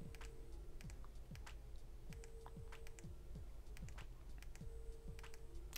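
Power button of an iPhone 13 Pro in a Caseology Parallax case clicked repeatedly, a series of faint, crisp, tactile clicks in an uneven rhythm over a quiet room.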